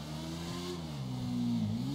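Suzuki SRAD 750 motorcycle engine in GTA V, a steady mid-pitched drone with rising and falling harmonic revs as the throttle is worked, loud and close with no talk over it.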